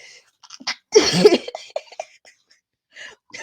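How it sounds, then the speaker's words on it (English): A single loud, explosive sneeze close to the microphone, preceded and followed by a few soft breaths and small mouth noises. "I'm going to sneeze."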